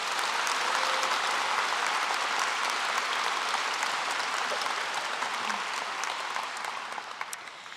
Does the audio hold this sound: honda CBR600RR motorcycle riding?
no